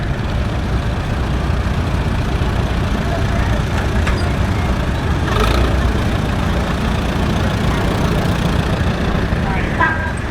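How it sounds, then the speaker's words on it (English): Engine of a 1952 Allis-Chalmers WD antique tractor at a Maryland steam show, a loud, steady low rumble running throughout with faint crowd and outdoor noise mixed in. "Here we have a 1952 WD, owned by John Conlon out of Westminster."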